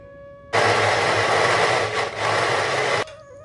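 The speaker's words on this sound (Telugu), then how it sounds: "మిక్సీ పట్టుకుందాం" A mixer grinder whirs loudly for about two and a half seconds, blending cooked brinjal chutney with turmeric, salt and coriander; it starts and stops abruptly with a brief dip in pitch midway.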